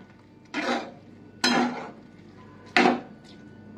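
Utensil scraping and clinking against a cooking pot as yogurt is stirred into the dish, three distinct bursts of stirring about a second apart, close and moderately loud, with no talking.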